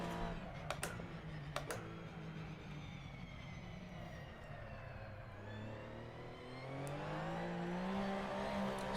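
A race car engine in the video game Assetto Corsa EVO revs and whines through gear changes, pitch climbing and dropping, with a few sharp clicks early on and a louder surge near the end.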